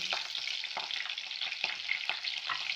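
Green chillies and curry leaves frying in hot oil with fenugreek seeds, giving a steady close crackle and sizzle with brief spatters and stirring scrapes, heard alone with no talk.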